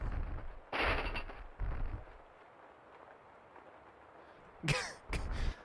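Several bursts of gunfire in the video game Max Payne 2: The Fall of Max Payne, loud and separated by quieter gaps, with a couple of sharper rapid shots near the end.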